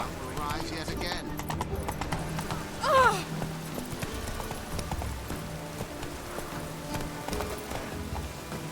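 Hooves of the horse Roach clip-clop at a gallop in The Witcher 3 video game, a steady rhythmic beat under continuous game music and sound effects, with a brief louder burst of effects in the middle.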